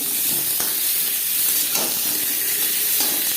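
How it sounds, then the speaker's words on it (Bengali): Green mango hitting hot oil with fried chili and panch phoron spices gives a steady close sizzle with soft stirring scrapes, and no voices are heard. "লঙ্কা পাঁচ ফোড়ন ভেজে নেওয়ার পর দিয়ে দেবো আম"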